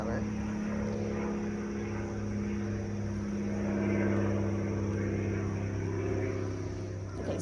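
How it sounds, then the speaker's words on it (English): A propeller plane passes overhead, a steady droning hum that swells toward the middle and fades again, heard outdoors under low background noise. "We've got a plane going over."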